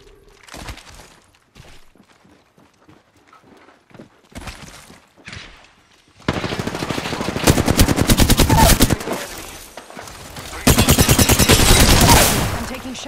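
Automatic weapon fire in the video game Apex Legends on PS5, dense bursts of rapid shots, loud and close, with quieter sporadic shots and movement sounds before the heavy firing starts.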